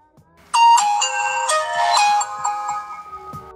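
A knockoff Nokia 6310 Reborn running Android powers up with a loud, bright chime melody. Several ringing tones play over about three seconds, then fade out.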